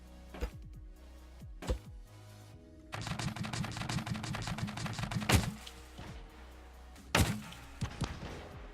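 Heavy thuds and sharp impacts in Scrap Mechanic as tank shells strike a turret, with a few spaced hits, a rattling burst in the middle and a final loud strike, all at moderate level.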